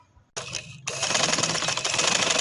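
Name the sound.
sewing machine stitching black trouser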